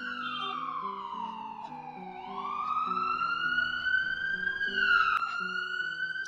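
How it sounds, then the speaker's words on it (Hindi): An ambulance siren wails in a continuous sweeping tone, rising and falling in pitch as the vehicle drives away, steady and fairly loud throughout with no talking over it. "और इधर एम्बुलेंस चला जाता है।"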